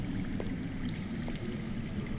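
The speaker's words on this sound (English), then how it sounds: "Listen. That's water. I hear water." Water flowing underground in a cave in the Game of Thrones video game, a low, continuous gurgling rush heard faint and distant, with a couple of soft drip-like ticks and no talk.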